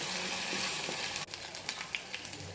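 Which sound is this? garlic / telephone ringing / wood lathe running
garlic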